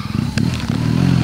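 A motorcycle setting off with a passenger aboard, its low engine rumble rising steadily with a brief rattle near the start, close and continuous throughout.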